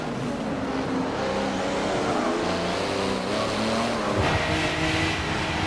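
Race car engines roar continuously and loudly on the Hafit Mountain Pass in Forza Motorsport, a dense droning rush with shifting pitch as the cars drive on.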